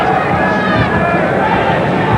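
Boxing arena crowd at a Vinny Pazienza vs Harry Arroyo fight: a dense, steady wall of crowd hubbub and murmuring with someone talking over it.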